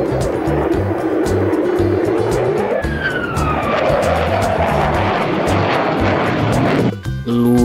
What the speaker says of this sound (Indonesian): Ada pesawat tempur.